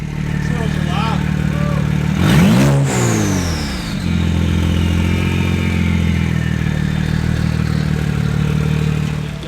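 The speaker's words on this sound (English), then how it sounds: "Turbos are loud." A turbocharged BMW 135i engine with exhaust fitted, an abandoned car being rebuilt as a 1M clone, idles, then snaps into a sharp rising rev that drops back to a steady, loud idle.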